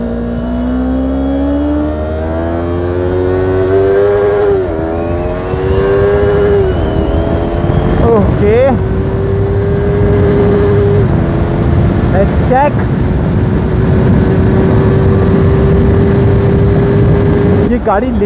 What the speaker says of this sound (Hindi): देख लो भाई, मतलब भाई बहुत तगड़ी उड़ रही है गाड़ी।